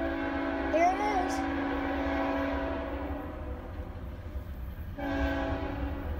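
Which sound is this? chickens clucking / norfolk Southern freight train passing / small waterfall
norfolk Southern freight train passing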